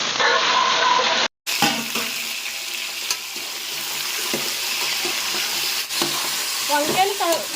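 Tempering spices sizzling and being stirred in mutton fat in a home kitchen, a continuous close frying hiss with utensil scrapes and clinks, a brief cut near the start.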